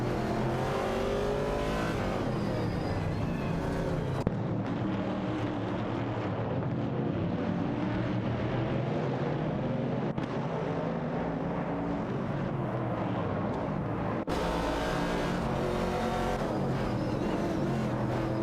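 Vintage Chevrolet Camaro 69 and 70 and AMC Javelin 70 race cars tear around a video game track, engines roaring loud and unbroken as several cars jostle close together, with no voices.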